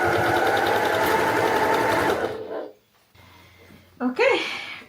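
Sewing machine stitching patchwork runs steadily and close for about two seconds, then stops; after a pause a dog whimpers and yips.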